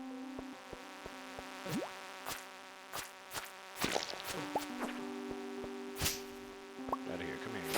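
A thin insect-like buzzing from annoying flies in a game, steady and faint, under scattered clicks and sharp effects with occasional soft voice sounds.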